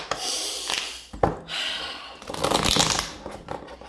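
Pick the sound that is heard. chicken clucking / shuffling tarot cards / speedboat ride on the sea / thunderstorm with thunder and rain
shuffling tarot cards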